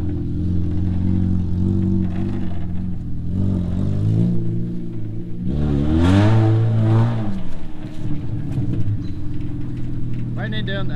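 A Miata or Focus built as a Gambler500 car, rough and needing a lift kit, revving hard while doing donuts, the engine rising to a loud roar midway and settling back to a steady idle rumble, with people talking over it.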